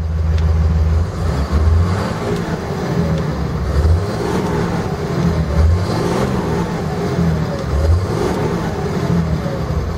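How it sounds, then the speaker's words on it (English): A 2007 Dodge Ram 3500 pickup idles in neutral and is revved in steady swells, its deep engine rumble loud and close throughout. "Let's rev the engine up a little bit so you can hear what she sounds like."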